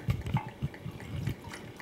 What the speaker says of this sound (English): Alright, so I want to pour 1/2 cup of cognac.